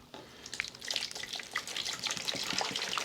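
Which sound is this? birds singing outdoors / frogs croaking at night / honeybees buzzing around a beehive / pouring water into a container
pouring water into a container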